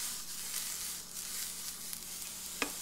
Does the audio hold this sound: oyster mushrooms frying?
yes